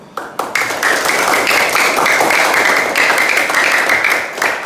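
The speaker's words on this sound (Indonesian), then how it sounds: "silakan berikan Ibu tepuk tangan yang gemuruh" Students in a classroom break into applause after a few scattered first claps, then keep up loud, dense clapping for several seconds before it begins to thin.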